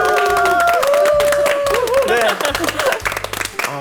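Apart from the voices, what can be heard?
studio audience applause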